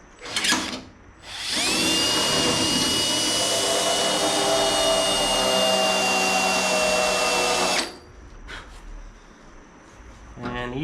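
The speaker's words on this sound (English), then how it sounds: "drill a small hole in the center" Power drill boring a small pilot hole into a stuck bolt on the fuel tank of a 1933 Ford 3-window coupe, a loud steady whine running about six seconds after a brief opening burst, then stopping.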